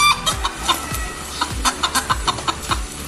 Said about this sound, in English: That's a chicken in pain.